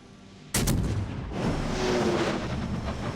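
Naval guns firing in World of Warships, a sudden heavy boom that rolls into a long, loud rumbling echo after a moment of quiet.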